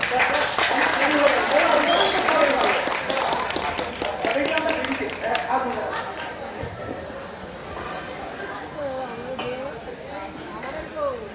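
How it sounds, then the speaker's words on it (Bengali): A theatre audience at a Bengali stage play breaks into clapping, dense and loud at first, then thinning and fading over several seconds while voices chatter underneath. "একবার চলে হাততালি হয়ে যায় সবাই"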